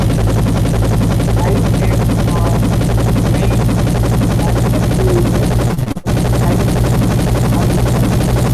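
A synthetic helicopter sound placed over a scene with rail traffic on Route 1, heard as a steady, loud rotor drone that runs the whole time, with one brief dropout near the end.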